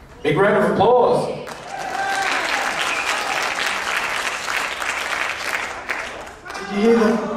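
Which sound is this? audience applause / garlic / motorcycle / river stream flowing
audience applause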